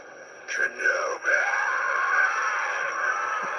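Darth Maul's Kenobi scream voiced by an actor, played from a lightsaber sound font: a sustained, strained shouting cry lasting about three seconds with a slightly tinny, speaker-like quality.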